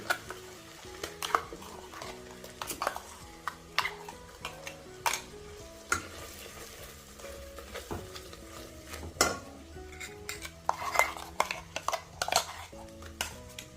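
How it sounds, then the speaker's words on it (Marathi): Ground masala paste is added to hot oil with chilli powder and stirred in a pan for a vegetable dish, giving a close, soft, scraping stir with light sizzling and occasional spoon knocks against the pan. "आता हे वाटण आहे हे घालते"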